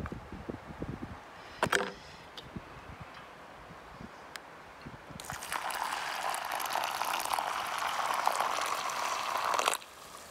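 Water pours into a camping pot outdoors for a rice pudding breakfast on a hiking trail, a steady splashing hiss lasting several seconds after some earlier handling clatter.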